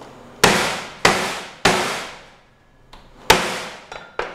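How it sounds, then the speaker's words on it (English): Five sharp, loud whacks ring out at uneven intervals as quarter-inch lobster pieces are pounded to tenderize them for schnitzel, each hit leaving a short ringing decay, with one fainter tap near the end. "So just give it a few solid whacks to really open up the tissue"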